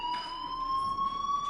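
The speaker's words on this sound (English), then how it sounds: "Hey, do you hear that fire alarm?" A steady fire alarm tone sounds continuously in a school setting in the Life is Strange video game, holding one unbroken pitch with faint background noise and no talk.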